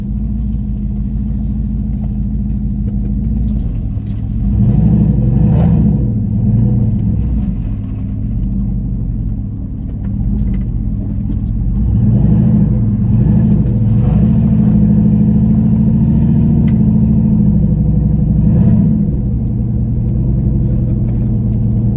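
A turbocharged NNBS truck does a burnout, its engine rumbling loudly and revving up in repeated surges over about twenty seconds, deep and close with no talking.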